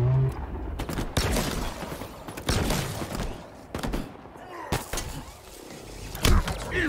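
Battle rifle bursts in Halo Infinite ring out in repeated loud volleys amid explosions and chaotic combat noise, with a voice talking over parts of the fight.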